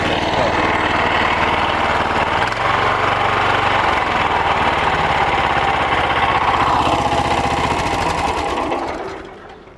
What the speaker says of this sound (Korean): 엔진이 시동이 걸려 돌아가면